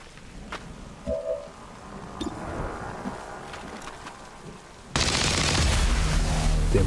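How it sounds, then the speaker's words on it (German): Uzi gunfire in the video game XCOM 2 bursts in loud and sustained near the end, a dense crackling stream that follows quieter game ambience with scattered faint clicks and thuds. "Der mit seiner Uzi da knallt einfach mal rein."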